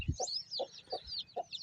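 A rooster that is up for sale gives four evenly spaced, close clucks, with thin bird chirps running above them.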